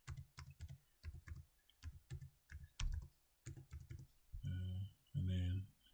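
Password keys tapped on a computer keyboard, quick clusters of sharp close clicks in uneven bursts, followed by two short spoken phrases.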